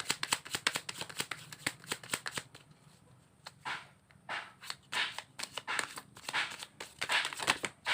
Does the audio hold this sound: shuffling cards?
yes